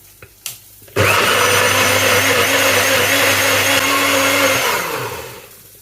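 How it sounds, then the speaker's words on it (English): NutriBullet blender blitzing a cooled aubergine mixture: a couple of clicks, then a loud, steady high-pitched motor whir for several seconds that winds down at the end. "Now our mixture's cooled down enough, we can put it in the NutriBullet. Let's get blitzing."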